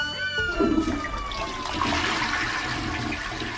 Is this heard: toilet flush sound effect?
yes